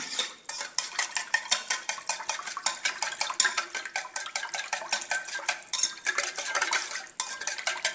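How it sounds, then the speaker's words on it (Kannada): A spoon stirs moong dal dahi vada batter with sugar and salt in a bowl, giving a steady run of quick, bright metallic clinks and scrapes against the bowl, close and continuous, with no voices. "ಹಾಕಿ ಎಲ್ಲವನ್ನು ಚೆನ್ನಾಗಿ ಕಲಿಸ್ಬೇಕು."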